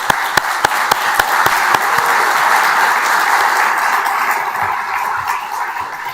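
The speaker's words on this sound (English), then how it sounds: "Idil deserves even longer applause" Sustained applause from an audience at an economic forum in Almaty, dense steady clapping throughout with a few sharper claps standing out, fairly loud and close, with no talking.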